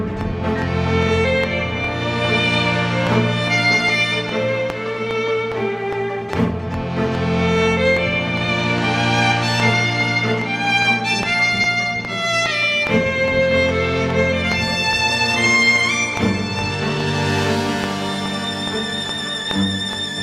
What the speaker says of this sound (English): I worked mostly on the last violin melody.